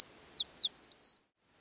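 A bird chirps as a sound effect, a short string of clear, high descending tweets in quick succession, then silence.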